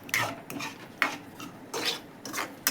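Semolina cooking in milk in a pot is stirred with a utensil, making about five close, scraping swishes in a loose rhythm with no talk.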